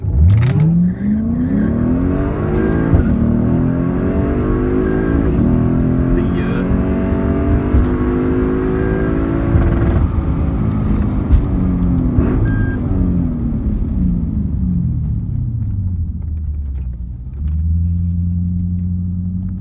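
A Lexus IS F launching down a drag strip at its first race of the day: a loud engine winds up through several gear changes with rising and dropping pitch, then settles to a lower rumble as people talk nearby.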